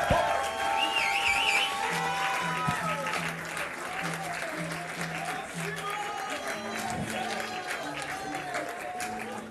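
Concert audience applauds to encourage performers at a show, sustained clapping with a whistle and crowd noise mixed in, plus some tonal sounds and voices over the steady clapping.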